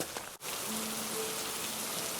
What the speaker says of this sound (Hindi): बाहर बारिश लगातार बरस रही थी